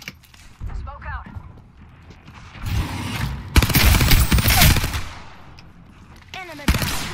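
Video game gunfire with automatic bursts and single shots, loud and close in two heavy stretches. A voice talks over it between the bursts.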